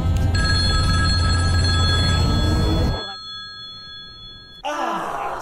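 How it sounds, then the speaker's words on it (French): A telephone rings loudly with a sustained bright bell tone for about three seconds, cuts off, and a brief ring returns near the end, heard alone with no speech over it. "le téléphone va sonner dans 3"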